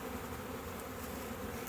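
Dense, steady buzzing of many honey bees swarming around an open hive during a honey harvest as frames are pulled, a continuous close hum with no speech.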